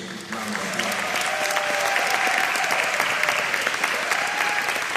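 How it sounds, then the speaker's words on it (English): Audience at a county commissioner debate applauding a newly elected mayor, a warm burst of steady clapping lasting several seconds, fairly close and without speech over it. "Let's give her a big round of applause."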